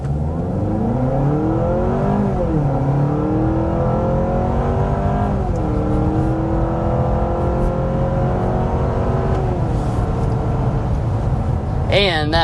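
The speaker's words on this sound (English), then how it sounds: "let's go ahead and get a hard acceleration" A Honda CR-V pulls hard up to 60 mph from inside the cabin, its engine drone climbing steadily and dipping briefly at shifts under loud continuous road noise, with a voice speaking over it.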